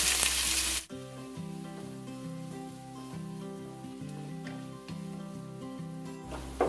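Finely chopped onions, three of them, go into hot oil with mustard seeds for a varutharacha chicken curry, bursting into a loud sizzle at first before background music takes over above the softer frying.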